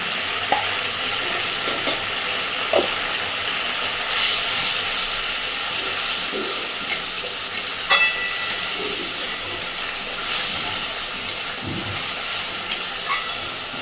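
Eggplant pieces coated with spices and Kashmiri chilli powder are stirred and fried in a pan, giving a steady close sizzle with soft scraping and occasional clicks of the utensil.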